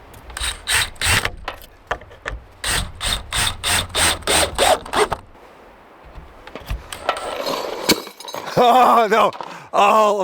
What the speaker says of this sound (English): Oh no, all of my screws just dropped.